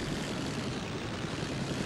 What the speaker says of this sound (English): Oh, that's an actual helicopter.